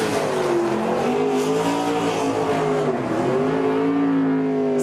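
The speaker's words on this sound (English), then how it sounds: "Corey Heim, as he's done so many times this year already. Another burnout." Corey Heim's NASCAR Truck Series truck doing a burnout, engine revving hard under continuous loud tire squeal, close and sustained with wavering pitch.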